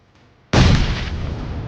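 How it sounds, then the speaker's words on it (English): A cooked frag grenade detonates in an online shooter game, a sudden loud blast after a quiet moment, followed by a long roaring, rumbling decay. "I cooked a frag grenade and tossed it right at him,"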